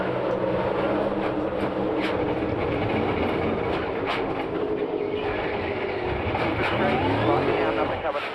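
NASCAR Cup Series stock cars roar past at speed during a race, a dense, continuous engine drone that holds steady throughout with a rising pass near the end, while a commentator talks over it.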